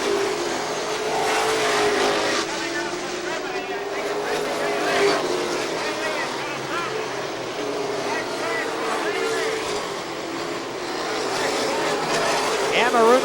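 Race cars lapping the Seekonk Speedway oval in a 1990 Wednesday special, engines droning steadily at mid-distance with pitch rising and falling as they circle, while a commentator talks over the field throughout.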